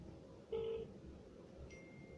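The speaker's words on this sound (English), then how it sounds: "So I am calling the number right now." A telephone keypad dials a number, with one clear tone followed by a second, fainter tone, both short and quiet against a low background hum.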